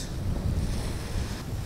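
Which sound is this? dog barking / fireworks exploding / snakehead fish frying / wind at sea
wind at sea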